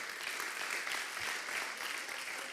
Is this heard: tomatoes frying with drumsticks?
no